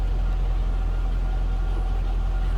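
A 2003 Chevrolet Corvette 50th Anniversary convertible idles on a stock exhaust, giving a steady low rumbling drone heard close up from behind the car.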